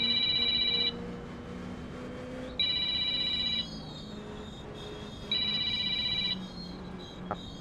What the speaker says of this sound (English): I don't know if you could hear my phone ringing in the background or not